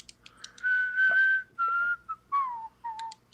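A person whistles a bright melody from a song in a few short sustained phrases, fairly close and clear, with soft clicks and light background noise between notes.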